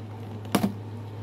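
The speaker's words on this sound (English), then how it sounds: "Actually, I might be able to just completely, entirely cut the bubble off" A plastic blister bubble on sealed Robosapien V2 robot toy packaging gets cut, giving two quick close snips in a row over a steady low hum.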